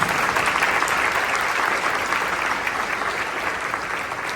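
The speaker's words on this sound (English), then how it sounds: "Let's give them all a round of applause" Steady, dense applause from a large audience, loud and continuous throughout with no voices standing out.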